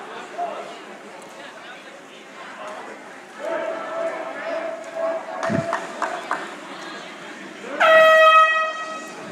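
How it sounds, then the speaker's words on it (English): A loud air horn blares near the end over steady background crowd noise and chatter at an indoor swim meet, with a few shorter tonal blasts just before it. "There goes the air horn"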